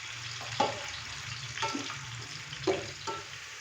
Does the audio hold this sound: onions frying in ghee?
yes